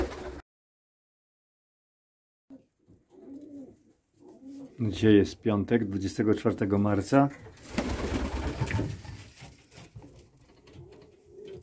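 Pigeons coo repeatedly in soft bursts inside a loft, close by, while someone speaks briefly before and over the cooing; light rustling and shuffling in between.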